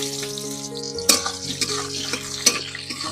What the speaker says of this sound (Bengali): এবার আলুটা একটু ভেজে নেব